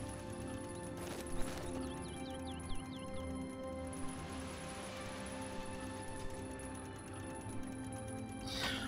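Horses in the stables of a Templar castle in a video game, with faint hoof clip-clop and shuffling plus a short whinny against a low ambient background.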